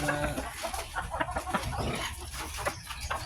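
Chickens clucking and chattering continuously at close range on a farm at feeding time, several birds overlapping in a busy, restless flurry of calls.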